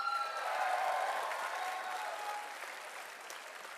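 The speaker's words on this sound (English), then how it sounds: "I want you to give me a big round of applause for Manic the Hedgehog." Audience applause at a cosplay contest at a Sonic fan convention, steady loud clapping from a crowd that swells early then tapers slightly, with no speech over it.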